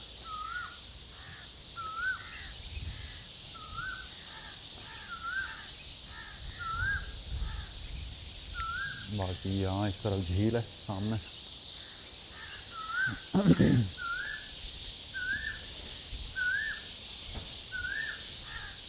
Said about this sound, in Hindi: सुबह सुबह दरख्तों में चिड़ियाँ जो हैं वो चहचहा रही हैं भरपूर।